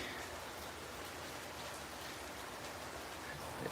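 Steady rain falling outdoors, a dense even hiss with no gaps, faint and distant, with no voices over it.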